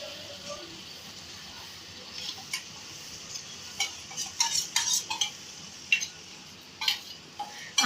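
Matar aloo pulao stirred in a pot, with a spoon clinking and scraping against the metal in irregular bursts that grow busier toward the end, over a faint sizzle, alone and fairly quiet.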